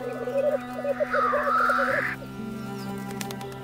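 Male black grouse calling at a courtship display in a small forest clearing, a run of rapid bubbling, cooing notes with a harsher hiss rising over them midway, close and steady before fading into quieter background.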